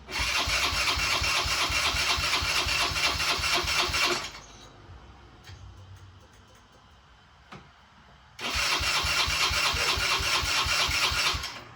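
A Yamaha Raptor 90 ATV with a newly replaced carburetor: two loud, close stretches of rapid, chugging engine starting and running, each about four seconds long, separated by a quiet pause.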